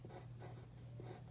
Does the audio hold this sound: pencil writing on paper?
yes